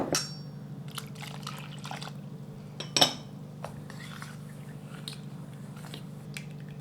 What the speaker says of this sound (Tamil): ரெண்டு கப் தண்ணி விட்டு நல்லா கரைச்சி விட்டுக்கணுங்க கட்டிகள் இல்லாமல்